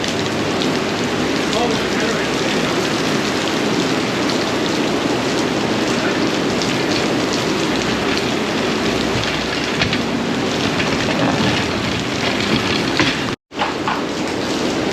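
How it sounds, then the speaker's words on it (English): Heavy rain pours down at the Devil's Bowl race track, a dense, steady roar of drops hitting surfaces that stays loud and unbroken, with a brief cut near the end. "Rain is really picking up now."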